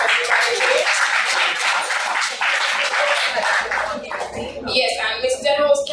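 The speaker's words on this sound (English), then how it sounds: "So round of applause for Habitat for Humanity" Audience applause at a community development evening honoring Habitat for Humanity: dense, steady clapping from a crowd for about four seconds, then thinning out as a voice begins speaking over the last scattered claps.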